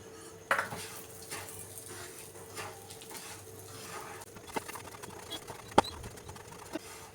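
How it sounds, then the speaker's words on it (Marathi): A spoon scraping and clinking against a pan as semolina roasts in ghee for sheera, soft irregular taps and scrapes at low volume with a few sharper metallic knocks. "सतत हलवत राहायचं."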